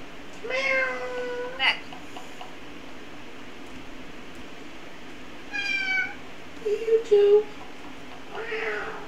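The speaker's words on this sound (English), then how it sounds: "I think the cat's telling on you again, William." A cat meows several times indoors, short rising cries scattered across a quiet room with a faint fan-like hum behind, with a few soft voices in between.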